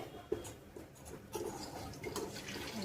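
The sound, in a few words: hot water poured to rinse spice residue into pot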